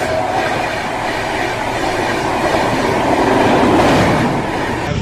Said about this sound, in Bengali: এই দিক দিয়ে একটা ট্রেন যাচ্ছে